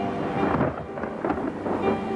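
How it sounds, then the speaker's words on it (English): Thunder rumbles and cracks in rolling bursts, deep and loud, with rain hissing underneath. "They heard thunder crack in the hills."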